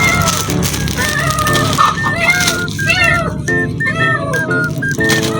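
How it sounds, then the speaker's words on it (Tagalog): A small pet cat meows repeatedly for food, its high, wavering cries rising and falling close by over steady background noise, with a few brief overlapping tones. "Yung pusa ko maliit, guys, palaging hingi ng pagkain"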